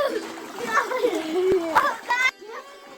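Water splashing in a makeshift backyard swimming pool during a rainy monsoon spell, several sloshing splashes with children talking and shouting excitedly over them, close by.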